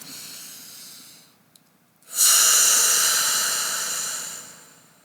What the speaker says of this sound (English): Deep breath is so important. Learn how to do deep breathing exercises.